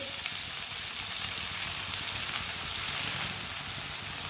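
Spring onions and finely chopped green garlic fry in a pan with a dense, even crackling sizzle that holds steady and moderately loud throughout, with no talking.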